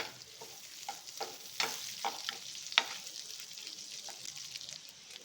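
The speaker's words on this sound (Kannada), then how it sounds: "ಬೆಳ್ಳುಳ್ಳಿ ಸ್ವಲ್ಪ ಕೆಂಪು ಬಣ್ಣಕ್ಕೆ ಫ್ರೈ ಆಗಲಿ" Chopped garlic and onion frying in hot oil, a steady sizzle broken by several sharp spatula scrapes and stirs against the pan, close by with no talking.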